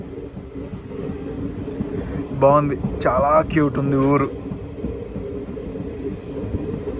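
A DEMU train runs on the Secunderabad to Siddipet line near Gajwel, a steady rumbling drone with rail clatter throughout, under a person speaking in the middle.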